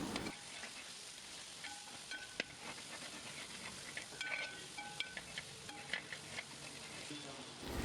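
Chicken pulao masala with chili powder and salt sautéing in a pan, a steady dense sizzle with scattered clicks and scrapes of a spoon stirring, close and continuous with no talking.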